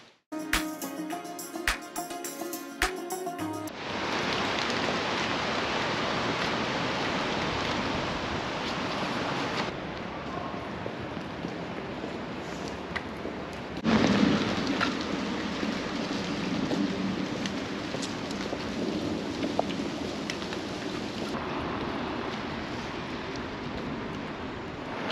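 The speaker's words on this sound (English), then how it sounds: "just hoping that this rain eases off a little bit." Steady rain falls through a walk into town past Shoreside Mills, a large old mill complex in Halifax; a continuous broadband hiss of drops on surfaces, loud and close, with a short burst of louder noise near the start.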